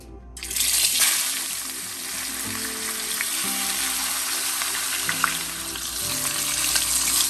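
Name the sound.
salmon fish head frying in pan with salt and turmeric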